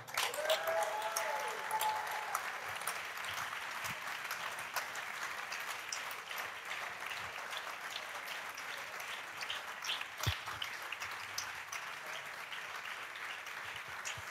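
Sustained applause from a large church congregation fills the room, steady and dense from start to finish, with occasional cheers mixed in.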